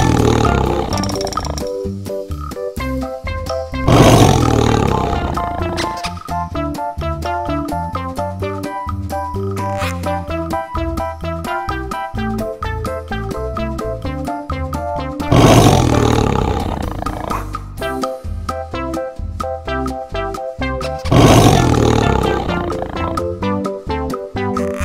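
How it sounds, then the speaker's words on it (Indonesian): Animated cartoon tiger roaring, with several loud roars bursting over a steady, busy jingle-like music bed, with croaking and purring textures mixed in and no talk. "Nama hewan dan suara binatang harimau."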